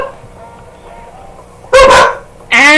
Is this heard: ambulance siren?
no